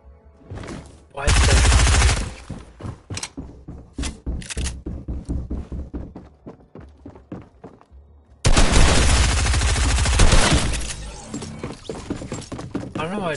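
Video game gunfire, loud close bursts of automatic fire alternating with rapid strings of single shots, with a brief pause before another long sustained barrage.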